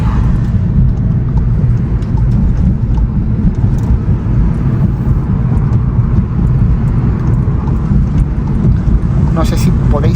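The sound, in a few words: road noise from rough asphalt in a Golf GTI mk7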